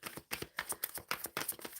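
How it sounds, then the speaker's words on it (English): Tarot cards shuffled by hand in a run of quick, crisp riffling bursts, each a short papery flutter separated by brief pauses, close and fairly quiet. "I am shuffling for the overall energy for the Scorpio Collective"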